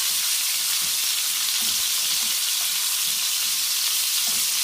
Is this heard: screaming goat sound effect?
no